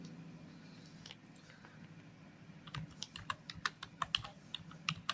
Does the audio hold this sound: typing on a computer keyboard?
yes